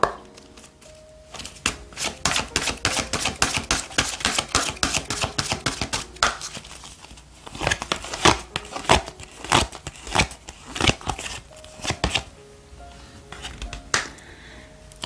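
Oracle cards being shuffled during a tarot reading, a run of quick dry papery riffles and taps with brief pauses, close and fairly loud, with no talking over it.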